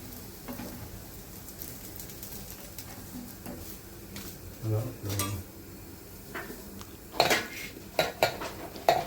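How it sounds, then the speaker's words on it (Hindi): Fried chili bhajiye are lifted out of a kadhai, with metal utensils clinking and scraping against the pan in scattered knocks that grow louder toward the end, close by, with faint background sounds. "ये अभी मिर्ची के भजिए निकाल दे रही हूँ।"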